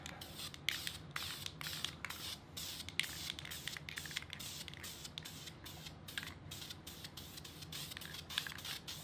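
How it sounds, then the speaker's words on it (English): Brown spray paint hisses from a can onto ghillie mesh mask padding in close, steady bursts of hissing spray with brief gaps between them, and no talk. "So we're gonna first just kind of hit it with the brown spray paint."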